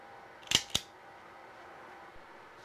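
Two quick, sharp snips close by, like flush cutters clipping plastic parts off a sprue while assembling an Ortur Laser Master 2 Pro laser engraver, followed by quiet room tone.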